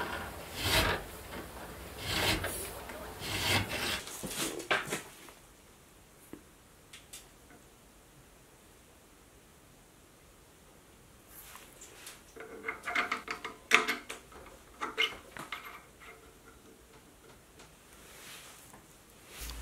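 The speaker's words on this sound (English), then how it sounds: "by hand, using a file." A hand file rasps a keyway in a metal part on a mini lathe project, with bursts of rhythmic rubbing strokes, a long quieter pause, then another run of strokes, close up.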